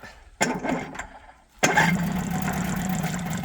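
A Bombardier engine with a freshly repaired carburetor sputters briefly, pauses, then catches and keeps running at a steady, fairly close idle.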